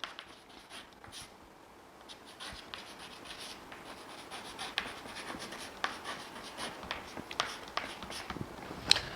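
Chalk or marker writes a formula on a classroom board in short, faint scratching strokes, with occasional taps against a quiet room background.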